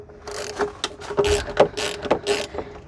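A ratchet working a bolt loose on a Nissan Micra K11 during coolant expansion tank replacement, with a series of sharp clicking strokes in irregular rhythm, close and fairly loud, alone.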